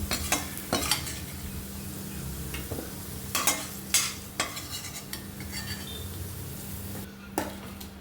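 Garlic fries in a pan for a Tamil pirandai thuvayal, with a low steady sizzle beneath repeated scrapes and clinks as a utensil stirs against the pan.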